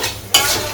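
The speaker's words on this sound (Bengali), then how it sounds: "তো আলুগুলা দিয়ে এখন আমি একটু ভালো করে কষিয়ে নিব" Potatoes being stir-fried in a pan for a village-style mola fish dish: a quick scrape of the spatula followed by a bright, close sizzle.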